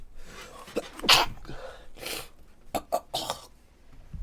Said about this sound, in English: That was like the most violent sneeze I ever had in my life